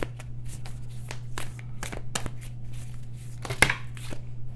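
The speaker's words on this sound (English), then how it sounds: "This is the back of the cards. Let's do some shuffling." Deck of tarot cards being shuffled by hand up close, a run of irregular soft slaps and riffling flicks with one sharper snap near the end, over a low steady hum.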